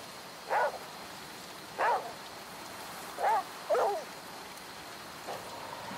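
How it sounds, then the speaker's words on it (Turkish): Steady rain in the video game Flame in the Flood hisses throughout while four short whimpering yelps, like a dog, break through at intervals. "yağmur da yağıyor"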